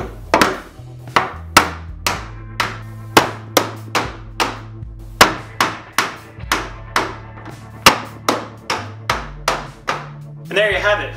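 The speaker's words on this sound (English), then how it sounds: "on the other side of that rivet, gonna smack it a couple times" Aluminum rivet ends on a jon boat are struck again and again with a hammer, giving about twenty sharp, ringing metallic blows at a steady, slightly uneven pace, loud and close.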